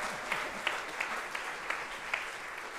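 A concert hall audience applauds a pianist as he leaves the stage, a steady wash of many hands clapping at moderate volume from a distance, with no voices heard.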